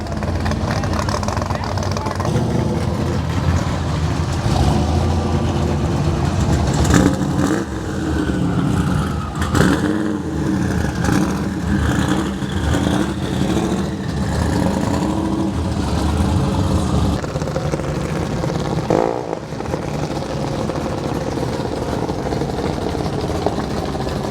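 Engine of a Shelby Cobra drag car at a drag strip, running steadily loud throughout with several swells of revving, mixed with crowd and track noise as it pulls up to the burnout box.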